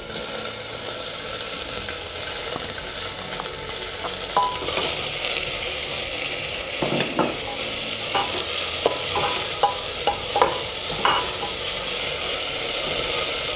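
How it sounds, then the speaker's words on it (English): Chopped onion fries with chili for goat curry, a loud continuous sizzle close up, with repeated scraping and tapping as a utensil stirs the pan. "Adding the onion."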